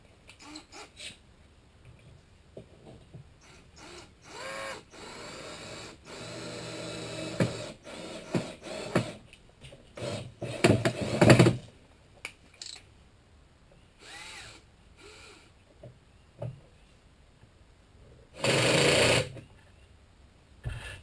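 Power driver sinking screws into the face of a teardrop trailer hatch, heard as several short whirring bursts of varying length separated by pauses, fairly close and with no talking.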